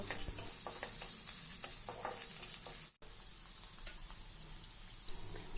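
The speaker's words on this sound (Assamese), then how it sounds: "পিঁয়াজখিনি অলপ ভজা হ'লে আদা ৰচুনৰ পেষ্টখিনি দি দিব আৰু লগতে কেঁচা জলকীয়া কেইটাও দি দিব" Chopped onions fry with ginger-garlic paste and green chillies in hot oil. A soft, steady sizzle with crackling spits comes through, broken by a brief gap before the frying carries on quietly.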